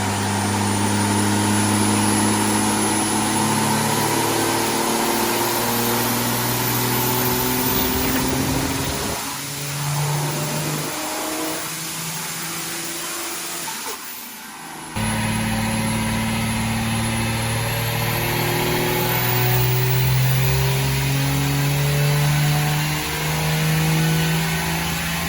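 Modified truck with an intercooler upgrade revving hard on a dyno power run, its loud engine note climbing steadily in pitch, dipping briefly mid-run, then surging again close and continuous.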